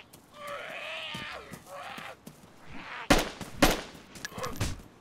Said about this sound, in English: Are you shooting at me? I'm shooting a fucking zombie.